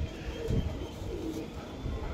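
Soft, low cooing from a Punjabi Malwai pigeon repeats faintly against a quiet background, a few muffled coos close by with no speech.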